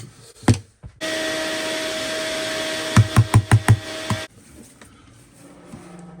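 A Parkside vacuum cleaner runs with a loud steady whine for about three seconds, broken by a rapid series of knocks, then switches off, leaving quiet handling noises.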